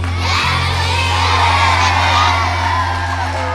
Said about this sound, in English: Let's clap it up for our